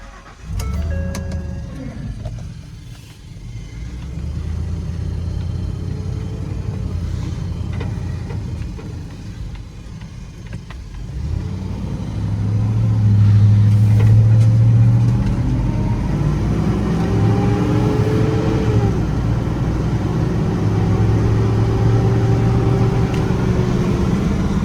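A 2011 Ford F-350 dump truck engine runs and drives, a steady mid-low drone that swells louder as the truck pulls away and gear shifts come through, with no talk over it.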